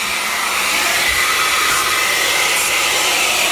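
A truck-mounted spray jet system blasts grout from a floor while a vacuum line extracts it, producing a loud, steady hissing rush that holds constant throughout with no talking.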